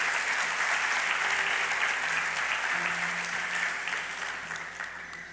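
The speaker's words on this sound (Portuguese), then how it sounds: "Aplauda Jesus nessa manhã." A church congregation claps together at a morning service, a steady, full burst of applause filling the room that slowly fades toward the end.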